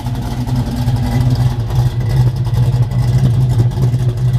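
A deep, throaty 1971 Chevrolet Chevelle hardtop engine rumbles loudly nearby, pulsing steadily with slight swells of revving.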